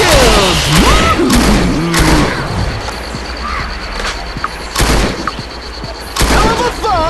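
Gunfire in the mobile shooter game Dead Trigger 2, sharp loud shots in short bursts spread across the span, mixed with game music and effects.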